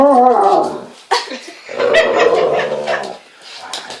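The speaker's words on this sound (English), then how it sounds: "That was our dog possessed by the devil." A pet dog makes a loud, close mix of whimpering whines, yips and low growling moans, sliding up and down in pitch with a brief break between bursts.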